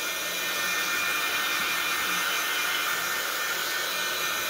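A hair dryer blows steadily over a painted journal cover, a continuous broadband whoosh that stays at an even, moderate level for the whole stretch with no voices over it.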